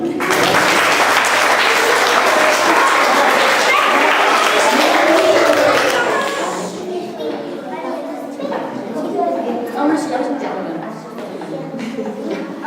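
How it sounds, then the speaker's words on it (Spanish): Loud, dense applause from an audience with children for two girls, Betty and Vicky, after a reading event, filling the first half then thinning to scattered claps and children's chatter. "Un fuerte aplauso para Betty y Vicky."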